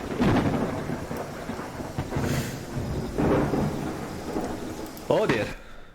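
Thunderstorm in the Viking village-building game Land of the Vikings, steady rain hissing under several rolling thunder rumbles, with a sharp crack near the end and a brief voice underneath.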